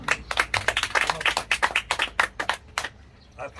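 Outdoor audience clapping at a poetry lecture beside the Hangeul Museum, a brisk burst of many hands that thins out and stops, ending with a few scattered claps.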